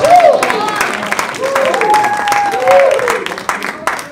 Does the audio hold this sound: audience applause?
yes